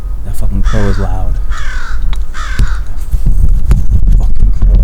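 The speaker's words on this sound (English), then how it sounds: "That fucking crow is loud." A crow caws loudly overhead outdoors, a couple of harsh close calls early on, followed by scattered outdoor noise and someone talking nearby.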